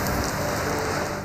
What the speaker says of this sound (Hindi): कराची के मुख्तलिफ इलाकों में तेज बारिश हो गई।